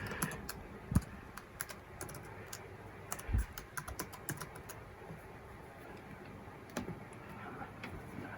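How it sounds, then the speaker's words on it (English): A key phrase typed on a computer keyboard in a quiet room, a quick irregular run of soft key clicks with a few louder taps. "It wants you to enter a key phrase, just as sort of a security thing, so I'll type that in."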